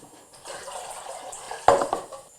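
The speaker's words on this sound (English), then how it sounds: "I'm going to fill it up with some water." Water running from a kitchen tap into a cooking pot, a soft filling rush with a sharper splash and clank partway through, short and close.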